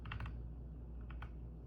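A command is typed on a computer keyboard during an ESP32 demonstration, giving a few faint, quick key taps over a low background hum, no voices.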